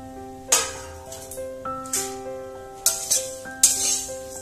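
Salt and sugar are stirred into flattened rice in a frying pan. A metal spoon clinks and scrapes against the pan in several separate bright knocks with ringing tones, close and fairly clear, over a faint background and no talking.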